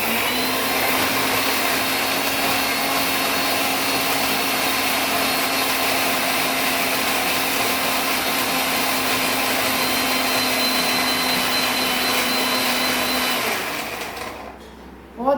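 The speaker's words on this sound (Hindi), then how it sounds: "इसमें डाल दिए सारे ड्राई फ्रूट और चला दी मिक्सी।" A kitchen mixer grinder whirs steadily while grinding dry fruits, a loud continuous motor drone that runs without a break for about thirteen seconds and then cuts off abruptly.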